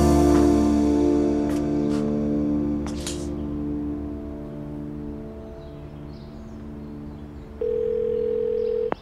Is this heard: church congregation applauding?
no